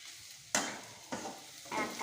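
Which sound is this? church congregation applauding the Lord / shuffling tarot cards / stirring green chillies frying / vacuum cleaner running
stirring green chillies frying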